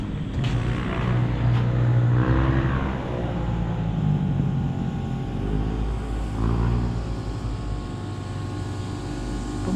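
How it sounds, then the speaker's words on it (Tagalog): Steady engine drone of motorcycles on a rural farm road, a continuous rumble swelling and fading as they pass, fairly near and without talk. "Itong aming kalsada ay umiingay na. At grabe mga motor."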